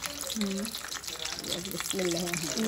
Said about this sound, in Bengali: রোল ভাজতেছি ভাবি